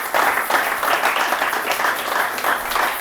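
A church congregation applauds during a sermon with steady, dense clapping that holds at an even level for about three seconds, close and continuous.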